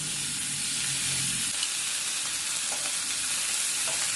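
Beef frying in a pan on a portable outdoor stove, a steady broadband sizzle with soft crackle that holds evenly for the whole stretch, close and fairly loud with no talking.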